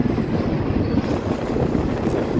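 Express train 135 running downhill on a Thai railway line near Muak Lek, a steady dense rumble of wheels and carriage noise with wind buffeting, continuous and close throughout, no voices.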